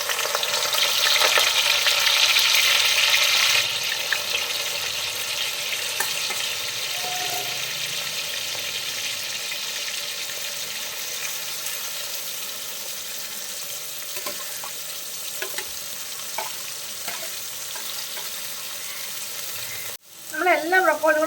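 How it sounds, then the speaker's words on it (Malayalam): Drained broccoli florets drop into hot oil in an iron pan with a loud, bright sizzle that eases after a few seconds into a steady frying hiss, broken near the end by a metal clatter and a short burst of voice. "ഇനി ഇതിലേക്ക് നമ്മൾ ഊറ്റി വെച്ചിരിക്കുന്ന ബ്രൊക്കോളി ഇട്ട് കൊടുക്കാം."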